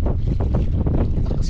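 Strong gusts on a beach buffet the microphone, producing loud, continuous low rumbling wind noise with surging bursts and a faint hiss of surf behind it.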